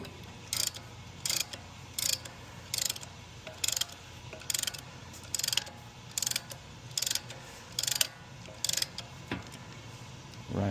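A caliper retractor tool compresses a brake caliper piston during a brake job on a 2021 Cadillac Escalade, making about ten short, evenly spaced bursts of ratcheting clicks, close and crisp against a quiet shop background.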